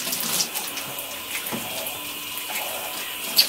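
Lukewarm tap water runs steadily into a tub for bathing a dog, a continuous close splashing hiss with a brief clatter near the end.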